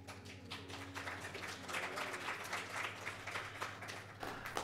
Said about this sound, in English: if it's new for you to clap after musical offerings